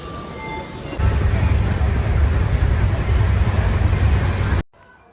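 Steady rumble and rattle from inside a moving passenger train bound for Davanagere, loud and continuous for several seconds before cutting off abruptly near the end.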